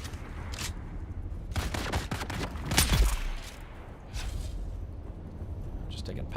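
Sporadic gunfire in the survival game Dune: Awakening inside a cave, with clusters of sharp shots and a louder burst midway, heard beneath someone talking over in-game ambience.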